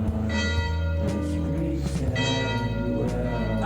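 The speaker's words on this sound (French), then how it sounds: "concert de cloche, c'est parti" Church-style bells ring together in a loud, sustained concert, several overlapping tones swelling and striking again over a few seconds.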